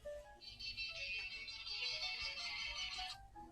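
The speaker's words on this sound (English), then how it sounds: "Phone keeps ringing." A phone rings with a sustained electronic ringtone, steady and moderately loud for about three seconds above a faint low background, without speech.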